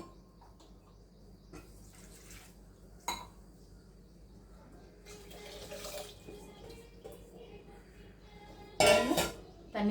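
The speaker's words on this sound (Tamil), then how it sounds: "இன்னொரு 1/2 கப் தண்ணி ஊற்றி" Water poured into a cooking pot while making millet pongal in a home kitchen: a brief rushing splash near the end among light clinks of metal utensils and soft handling noises, with quiet surroundings.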